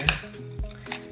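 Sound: knife slicing a caprese sandwich in half

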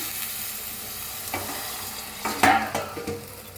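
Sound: stirring chicken in a pan

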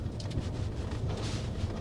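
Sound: strong wind

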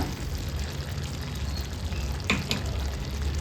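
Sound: stirring raw banana with spice powder in a pan

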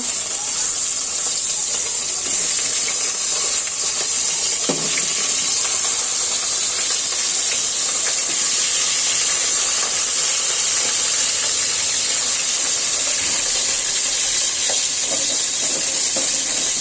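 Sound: rohu fish sizzling in hot oil with panch phoron

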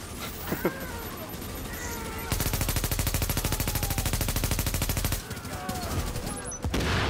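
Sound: turret gunfire in video game The Division

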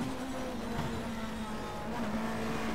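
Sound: touring cars racing in the rain, BTCC 1997

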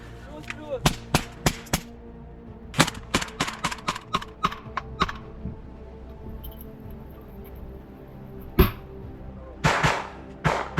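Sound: gunfire during combat, covering fire

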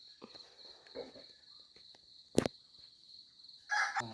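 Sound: rooster crowing at dawn

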